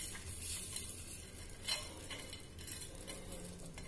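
Vermicelli is stirred into hot milk for carrot semiya payasam, giving a steady, soft scraping and swishing close up, with a faint simmering hiss and one or two light clinks.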